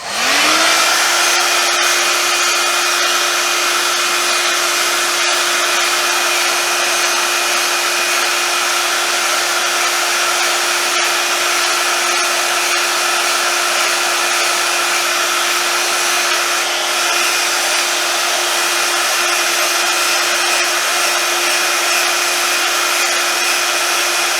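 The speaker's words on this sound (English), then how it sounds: "so this is just a very rough blow dry" A hair dryer blows steadily at close range while hair is roughly blow-dried for volume, its motor whine holding an even pitch for the whole stretch with no talking.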